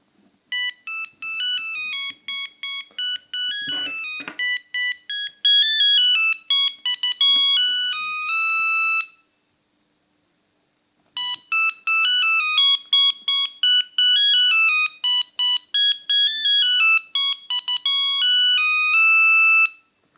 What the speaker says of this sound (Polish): Oczywiście to są dzwonki monofoniczne.